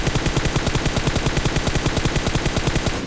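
Sustained rapid automatic gunfire from the PUBG Mobile game rattles loudly and steadily with no pause for about three seconds, then cuts off.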